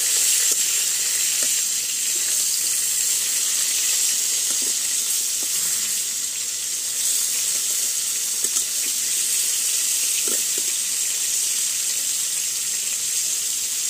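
Sliced pointed gourd (potol) seasoned with salt, turmeric and chili powder frying in hot oil, giving a steady, even sizzle throughout with a few faint clicks of a utensil against the pan.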